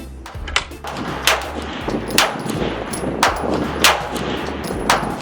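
Firearms are fired at a shooting range in sharp, widely spaced reports, roughly every second, each ringing briefly over a steady background.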